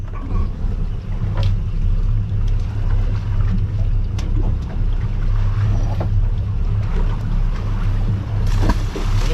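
Twin boat engines are put in gear and pick up speed on open water, a loud, continuous low rumble mixed with wind and splashing hull noise throughout.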